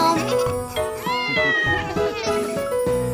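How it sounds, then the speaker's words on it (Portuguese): An orange cartoon cat meows over and over in a Portuguese children's spring song, sung meows woven into the melody above a bright musical backing. "Ele é um gato laranja. Miau, miau, miau, miau, miau, gato."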